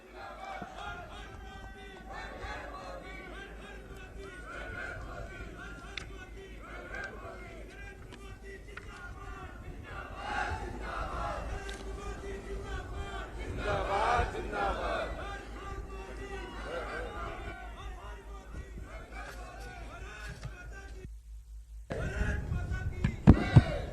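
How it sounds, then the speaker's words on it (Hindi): A large crowd at Kedarnath cheers and applauds for Prime Minister Narendra Modi, the roar rising and falling over about twenty seconds and swelling to louder bursts near the end. "एक बार जोरदार तालियां नरेंद्र मोदी जी के लिए।"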